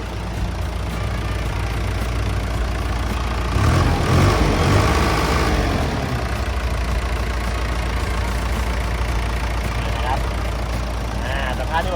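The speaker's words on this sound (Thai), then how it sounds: "เสียงเครื่องการทำงานของตัวนี้ของเขาเนี่ยก็ทำงาน" Komatsu WA150-5 wheel loader with its diesel engine idling steadily at close range, a continuous low rumble that swells briefly in the middle, with a few faint background noises near the end.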